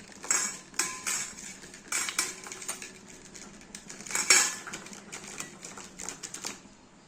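Potatoes with cumin and salt tossed in a metal dish, irregular clattering metallic scrapes and clinks coming in uneven bursts at close range.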